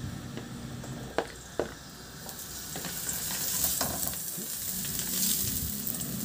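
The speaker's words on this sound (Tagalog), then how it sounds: "Magpainit na rin ako ng mantika sa kawali at igisa ko na yung bawang at luya." Garlic and ginger sauté in hot oil in a pan, a steady close sizzle with stirring and a couple of sharp utensil clacks against the pan.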